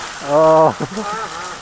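Gravity-fed stream water pours from a pipe in a village in a constant rushing hiss, while a voice briefly calls out over it.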